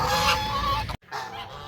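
Geese on a small farm give loud, close honks, a run of calls broken by a brief silence before more honking resumes.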